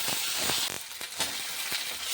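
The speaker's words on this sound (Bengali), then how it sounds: "পেঁয়াজটা একটু ভাজা ভাজা হয়ে গেছে, এবার দিয়ে দিলাম আদা রসুন বাটা" Steady close sizzling and hissing of ginger-garlic paste frying with onions in a pan, with a few soft clicks of stirring and no voices.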